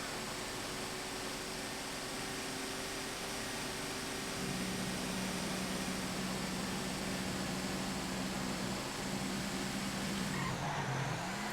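An in-game cement mixer truck drives during a race, a steady engine drone with a sustained tonal hum that shifts pitch partway through and dips near the end, continuous and without talk.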